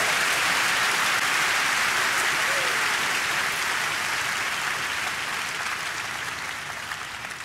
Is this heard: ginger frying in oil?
no